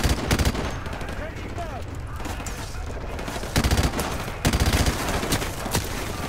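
Dense bursts of automatic gunfire from a Call of Duty 4 Remastered multiplayer match, several rapid volleys and sharp shots layered over constant in-game battle noise.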